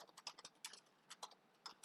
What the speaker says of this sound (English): I hit enter and I can here start typing.